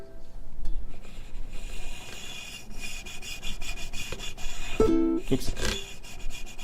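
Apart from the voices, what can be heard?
fingernails scratching guitar strings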